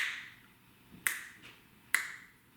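Finger snaps made with thumb and finger, two crisp, bright cracks about a second apart, close and alone in a quiet room with no talking.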